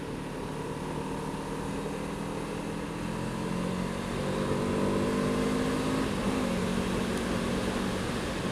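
A Kawasaki Z7 Hybrid motorcycle running steadily while changing gear off the throttle, a constant engine drone with a slight shift in pitch midway and a brief dip.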